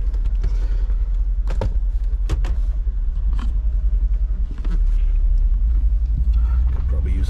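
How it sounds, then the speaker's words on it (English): Mercedes G63 G-Wagon engine idling and driving, a loud low steady rumble throughout with occasional knocks and clicks from the cabin. "Definitely sounds like a G-Wagon."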